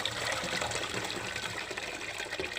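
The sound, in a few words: pouring water out of jars of canned tomatoes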